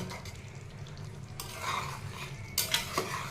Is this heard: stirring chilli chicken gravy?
yes